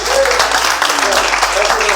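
An audience at a book launch applauds in a steady, continuous wash of clapping, loud and close, with a voice briefly audible over it.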